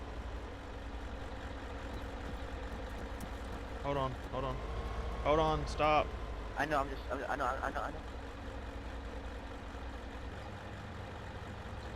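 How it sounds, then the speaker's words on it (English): A truck engine idles in the military shooter game Arma 3, giving a steady low rumble that runs through the whole stretch while several voices talk over it. "Can you turn the truck off so we can hear people?"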